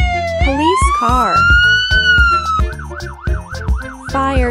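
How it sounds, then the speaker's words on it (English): A loud police siren rises into a long wail, then switches to a fast, warbling yelp, heard over a rhythmic musical backing. "Police car."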